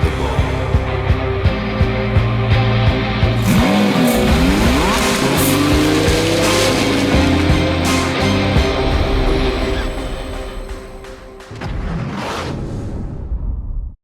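Lamborghini Huracan Sterrato off-road supercar driving on dirt, a loud engine roar with passing whooshes and tire noise, the pitch sweeping up and down through gear changes before dropping out briefly near the end and returning.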